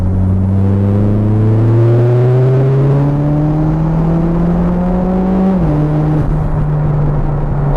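A Mitsubishi Evo X with a newly fitted turbo pulls hard. Its loud, close engine note climbs steadily in pitch, drops briefly at a gear change, then keeps rising.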